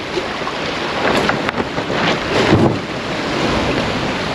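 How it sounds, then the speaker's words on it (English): Squall wind buffets a sailboat in the English Channel, a continuous loud roar of gusting wind and breaking waves with rushing water surging louder midway, no voices. "So another sort of squall has rolled in."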